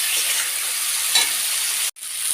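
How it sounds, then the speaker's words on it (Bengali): Potatoes tossed with spices and green chilli paste fry in a hot pan for a rui fish curry, a steady close sizzle with a scraping stir midway and a brief break near the end. "দেখো মশলাগুলো আমি ভালোভাবে আলুর সঙ্গে মিশিয়ে নিচ্ছি।"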